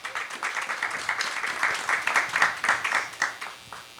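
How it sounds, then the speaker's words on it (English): An audience at a Houston music city forum claps for a speaker, a lively, fairly close ripple of many hands with individual claps standing out, swelling in the middle and easing off toward the end. "So let's give Mr. Shain Shapiro a big round of applause."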